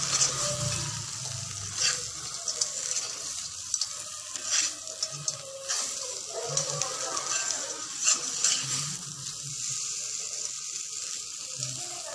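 Country crabs fry in masala while being stirred in a pan, with a steady loud sizzle and scraping stirring strokes that run throughout, mostly without speech.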